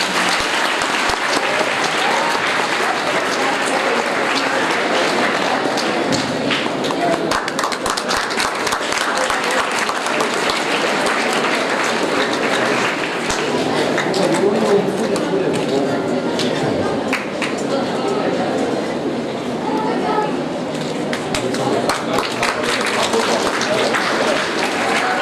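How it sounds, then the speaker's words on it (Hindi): A seminar audience breaks into loud, sustained applause, dense rapid clapping that holds at an even level for about twenty-five seconds, with voices faintly mixed in. "जोरदार तालियां।"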